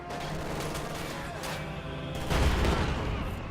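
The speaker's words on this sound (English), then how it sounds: "that machine gun has repositioned to a more aggressive location and will shut down even more harassment attempts" Machine gun fire in a strategy video game crackles in rapid, continuous bursts among distant booms and battle noise, growing louder and heavier partway through.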